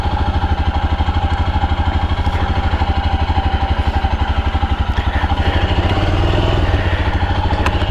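A Royal Enfield Scram 411 single-cylinder motorcycle running close by, a loud, steady, rhythmic thumping idle that rises slightly in revs toward the end.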